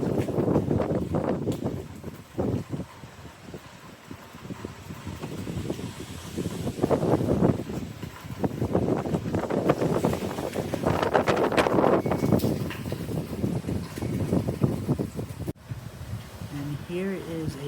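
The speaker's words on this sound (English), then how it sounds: "It was just a big gust of wind." Strong gusts of hurricane wind from Hurricane Milton in Orlando, Florida, roar and buffet the microphone in surging waves that build and fade over several seconds. The wind is loud and close, with no clear talk over it.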